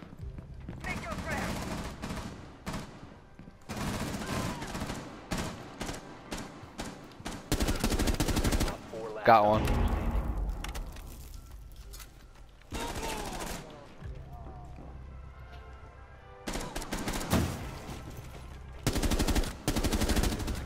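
Repeated loud bursts of automatic gunfire from Rainbow Six Siege, coming in dense clusters separated by short lulls, with a player talking over the shooting.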